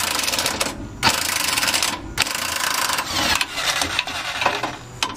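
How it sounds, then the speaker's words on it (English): Electric impact wrench zipping the rear subframe nuts off a 1994 Miata, loud buzzing bursts of hammering rattle in several runs separated by short pauses, close up. "I mean, this is just an electric impact."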